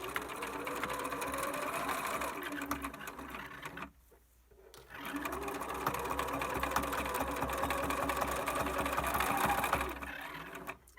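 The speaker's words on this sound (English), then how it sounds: "So we're going to sew right over the strap, stop, start again at this strap," A sewing machine stitches a fabric face mask, running loud and close in a steady whirring buzz, stopping briefly for under a second before starting again and running to the end.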